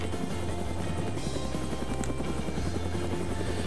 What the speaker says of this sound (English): Just coming to the heli.